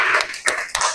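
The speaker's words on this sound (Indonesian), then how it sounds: "Tepuk tangan buat Arsila." Children clap their hands for a classmate named Arsila in a classroom, a quick burst of three or four sharp claps within a second.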